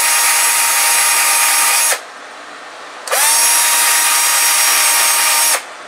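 Drill driving a sanding drum against wood, used as a makeshift spindle sander: two long, loud, steady high whines, separated by a short pause where the motor spins down and then restarts.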